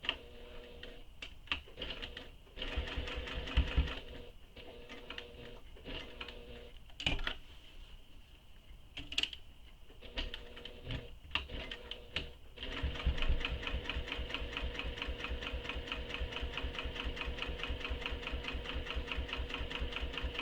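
A sewing machine stitching across the layers of a handmade handbag, first in short stop-start bursts, then settling into a fast, steady mechanical run of stitches close by.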